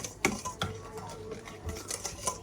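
A spoon scrapes and knocks against a bowl of cake batter in quick irregular strokes, soft close-up stirring with light clinks.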